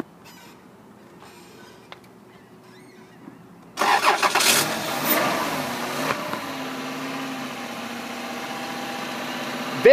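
The 3.5-liter engine of a 2004 Chrysler Pacifica cranks and catches after a quiet stretch, flaring briefly in revs before settling into a smooth, steady idle, close and fairly loud.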